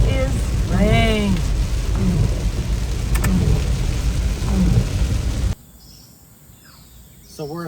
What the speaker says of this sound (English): it isn't just rain, it is rain.